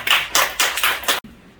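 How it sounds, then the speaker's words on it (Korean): A small crowd claps at a church thanksgiving service and press event, with several quick loud bursts of applause that stop abruptly, leaving a quiet room. "박수를 드립니다"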